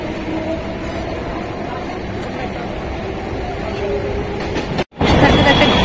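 A passenger train rolls along at steady speed, its carriages giving a continuous loud rumble and rattle that briefly cuts out near the end before resuming, with no talk over it.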